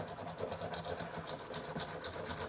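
Steady scrubbing rasp as a brush works heavy lead fouling off a Ruger-style Rough Rider revolver part, close and continuous with rhythmic back-and-forth strokes.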